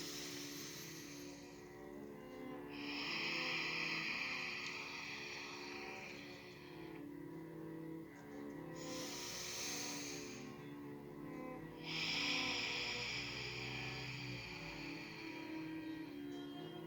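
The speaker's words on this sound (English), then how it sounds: "inhaling and exhaling through the nose" Slow, calm breaths drawn in and pushed out through the nose during a beginner yoga practice, soft airy swells rising and falling in a steady rhythm, several cycles in a row, close and quiet.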